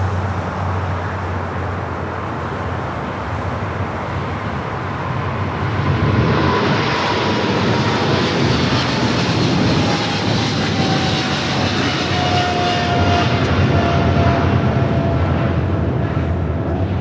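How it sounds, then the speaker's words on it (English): Boeing 777 freighter operated for DHL taking off at LAX, a loud continuous jet roar that grows heavier partway through, with a thin high whine running along the rumble. "DHL operated by Singapore Airlines 7447 taking off to Sydney, Australia on the 777 freighter"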